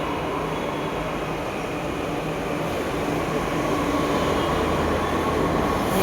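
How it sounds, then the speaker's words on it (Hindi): A metro train arriving at a station fills the space with a loud, steady rumble of wheels and motors. The roar grows slightly toward the end, with no speech. "आ भी गई भाई मेट्रो तो"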